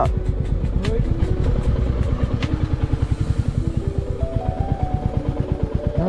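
A motorcycle engine thumps in a fast, even rhythm as it rides close by along a rough rural road, loud and steady, while people talk over it.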